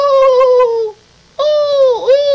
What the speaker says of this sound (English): And this is a loon. Loons live near lakes.